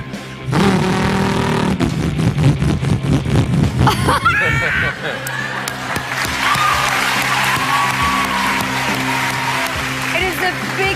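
A human voice imitates a supercharged Shelby car engine, revving with climbing pitch for a few seconds, then a loud crowd erupts in cheering and applause that carries on to the end.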